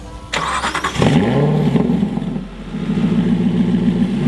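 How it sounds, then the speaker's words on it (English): A 2015 Aston Martin Vantage GT engine starts up: a starter whir, then a loud bark as the engine catches and revs, settling into a deep steady idle close by. "when you push this key into the slot and the engine starts up"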